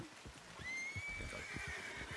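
A drawn-out horse whinny rings out in a video game, held high and clear over soft rhythmic hoof clopping, with no talking.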